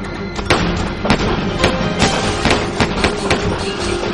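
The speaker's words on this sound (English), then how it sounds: "the store erupts in a hail of gunfire." A rapid string of sharp, loud gunshots cracks out inside a store during a robbery, roughly a dozen bursts in quick irregular succession.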